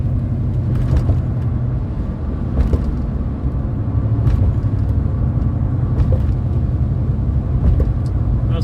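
Truck rumbling past at night in Washington, DC, a loud continuous low rumble of engine and road noise with occasional clatters and thumps.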